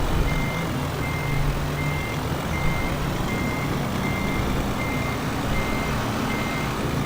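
Truck reversing beeps from Euro Truck Simulator 2, a steady series of evenly spaced electronic tones repeating over a continuous engine hum, loud and close throughout.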